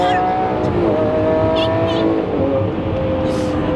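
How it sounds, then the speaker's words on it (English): Lamborghini Aventador engine droning loudly while being downshifted again and again, with pitch shifts as the gears change and people talking over it inside the car. "Just downshifting excessively because we can."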